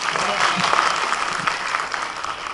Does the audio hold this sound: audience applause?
yes